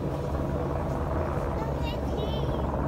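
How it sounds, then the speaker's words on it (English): Police helicopters fly overhead during a manhunt, their rotors giving a steady low thrumming heard from inside a moving car, with road rumble underneath. "there's one helicopter, two helicopters, there's three,"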